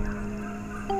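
A vulture call sounds as a steady, sustained animal cry throughout, with a sharper, higher note rising near the end. No voices are heard.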